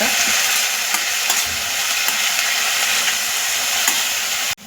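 Finely chopped coriander leaves for kothimbir bhaji sauté in a pan with a steady, hissing sizzle and occasional stirring scrapes, close and continuous, then breaking off abruptly at the very end.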